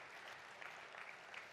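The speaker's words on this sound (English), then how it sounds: "Let's give them all a nice round of applause." A conference audience gives a round of applause, a brief, fairly faint wash of steady clapping from a roomful of people with no voices over it.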